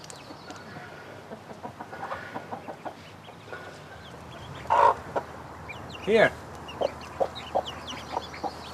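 Hens and a rooster cluck in short repeated bursts at a Camphill community farm in Northern Ireland, with louder nearby calls standing out over soft background clucking and a brief spoken word.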